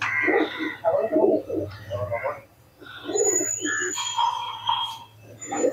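Teddy pigeons coo in soft, rounded bursts close by, mixed with people talking nearby over a low hum.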